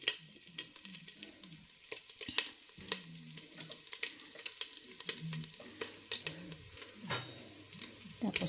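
Ginger hits a very hot pan for chicken tinola, giving a soft crackling sizzle with scattered sharp pops and scraping stirs. A low voice talks now and then underneath.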